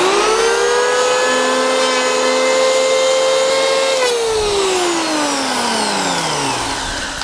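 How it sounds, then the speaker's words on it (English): Electric planer cutting along an oak frame made from upcycled floorboards, a loud steady whine that holds level, then drops in pitch as the blade slows near the end, with no talking. "here's the planer"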